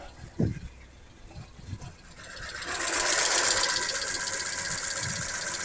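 A Dacia car engine runs with a steady, even hum and a fine mechanical ticking, starting up after a couple of faint thumps, then holding a constant idle.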